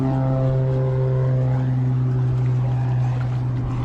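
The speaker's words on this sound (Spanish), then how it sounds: "Ahí vuelve a salir otra avioneta, ¿la habéis visto?" A small propeller plane takes off near a lagoon, its engine drone steady and loud, with strong low harmonic hum sustained throughout and no voices.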